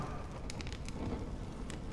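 Steady rain falling in Honkai Star Rail, a dense continuous hiss with a few brighter drip-like spatters over a low rumbling bed, no voices.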